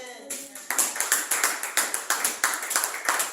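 A church congregation at a Sunday service claps in steady rhythmic unison to acclaim the king of kings, dense fast beats of many hands starting after a brief spoken lead-in.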